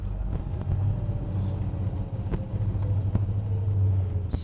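A 1965 Pontiac GTO's engine rumbles low and steady from inside the car while driving, with occasional small knocks and no talking.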